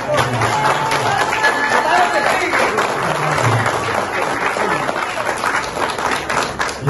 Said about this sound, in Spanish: Fuerte aplauso, Jerry Acosta.